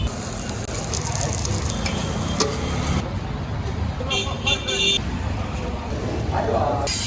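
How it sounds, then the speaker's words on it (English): A crepe with beef and tomato sizzles loudly on a hot plate at an Egyptian street stall, a continuous crackling hiss set against passing traffic, car horns and people talking nearby. "the crepe thing was like sizzling"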